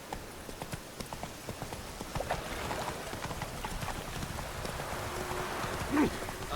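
Horse hooves in the video game Witcher 3, a steady clip-clop of footfalls throughout at moderate volume over a soft, rain-like background hiss.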